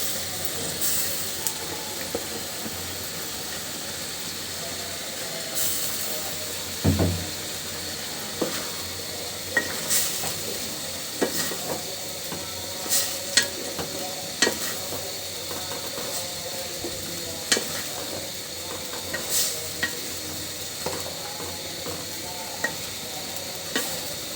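Fish fries in a pan with a steady sizzling hiss, punctuated by repeated scrapes and knocks of a spatula stirring, close and fairly loud.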